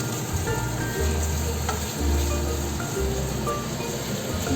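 Bitter gourd curry with spices sizzling and frying in a pan, steady crackle with repeated stirring scrapes in regular strokes, close and clear with no talk.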